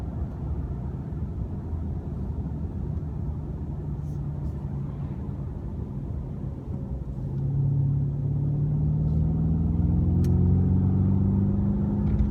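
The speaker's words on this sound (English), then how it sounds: "It's a small V8, it's forced induction, but at least what Mercedes is allowing me to hear in the cabin sounds pretty nice." A small forced-induction V8 in a Mercedes-Benz S 560 4Matic coupe in sport plus mode, heard from the cabin as a steady low rumble that swells louder partway through, with faint pops above it.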